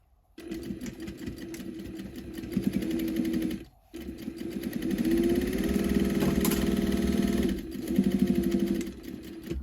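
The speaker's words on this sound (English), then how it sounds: "I'll just stitch this down now." A sewing machine stitching a pocket onto fabric for a tote bag runs in a steady, close mechanical whir, pausing briefly once before resuming for a longer continuous stretch.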